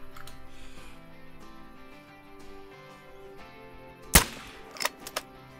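A hunter fires a .45 air rifle at a jackal about 100 yards away, giving one sharp, loud crack. A couple of smaller knocks follow over a steady background hum.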